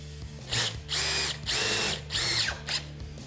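A Dewalt DCF860 impact driver drives a screw in four long hammering bursts with a short fifth, a loud rattling mechanical whine that stops and starts close by.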